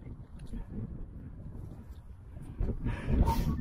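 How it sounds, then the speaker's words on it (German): Strong outdoor wind buffets the microphone on an exposed open spot, a low rumbling roar that surges louder near the end, with faint voices now and then. "Ja, das ist wieder heute extrem windig."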